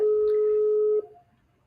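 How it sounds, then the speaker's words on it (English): A steady telephone line tone sounds while waiting for a call to connect, a clear continuous beep lasting about a second before cutting off into near silence. "As we wait for Jadid Mwangi to pick our phone call"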